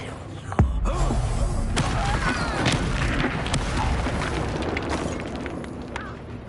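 An Incendio fire spell is cast in a video game, a sharp burst at the start followed by a sustained roaring, crackling rush of flame with scattered pops, loud and close throughout.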